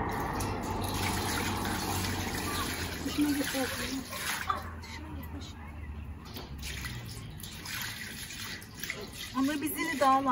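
Water runs or is poured during home tomato paste making, a continuous splashing, gurgling flow that is loud at first and thins out partway through. Voices talk over it.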